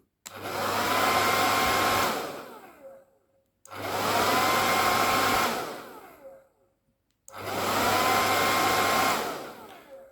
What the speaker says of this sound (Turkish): Şimdi fön makinesi çalışır durumdayken Komut üzerinden sistemi kapatalım ve fön makinesinin durduğunu sizler de gözlemleyin.